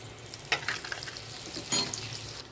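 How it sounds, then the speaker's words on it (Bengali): A spoon of butter melting into hot oil in a pan after fried bhetki fish, a soft continuous sizzle with a couple of brief louder crackles, no voices. "আর 1 চামচ মাখন আমি ওই তেলের মধ্যে দিয়ে দিচ্ছি"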